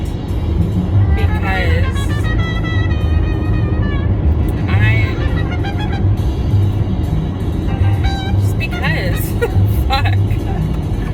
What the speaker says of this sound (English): Now I'm driving to band practice